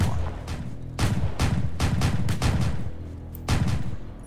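Airstrike explosions and gunfire in Roblox Army Simulator, a string of loud, punchy bursts arriving in irregular clusters, with short booming gaps between volleys and no talking.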